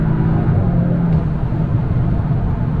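Modified VW Golf 8 GTI accelerating hard in third gear, a steady loud engine drone and rumble with road noise, no gaps or talk.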